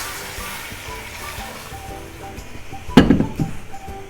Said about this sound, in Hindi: इसमें हमने 3 गिलास पानी ऐड कर दिया